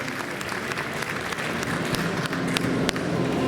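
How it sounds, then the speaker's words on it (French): An audience at a chocolate fashion show applauds, a steady wash of many hands clapping throughout with a few sharper individual claps standing out. "Vous pouvez l'applaudir, La Fleur."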